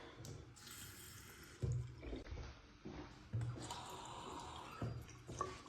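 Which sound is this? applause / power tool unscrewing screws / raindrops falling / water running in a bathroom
water running in a bathroom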